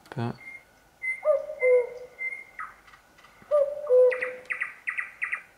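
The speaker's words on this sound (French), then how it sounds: "Moi j'aime bien les oiseaux, c'est assez sympathique" Recorded birdsong wake-up sound from a Philips Eveil Lumière dawn simulator alarm clock: looping chirps, whistles and trills in clear repeated phrases, electronic and close, with no talking over it.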